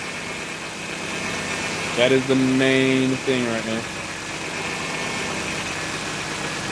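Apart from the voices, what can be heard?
Nissan Maxima engine running with power steering noise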